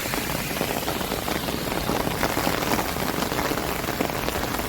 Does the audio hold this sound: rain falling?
yes